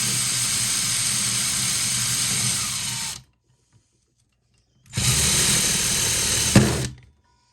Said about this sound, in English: Drill down your hole.